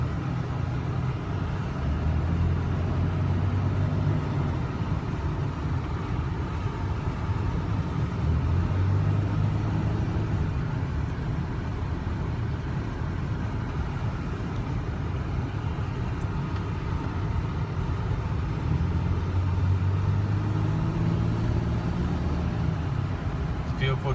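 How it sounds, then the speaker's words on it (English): A Toyota Tacoma TRD pickup drives down a back road near an airport, giving a steady close engine and road rumble with slow rising tonal swells, while someone talks over it. "We just are driving down the back road of where our building is."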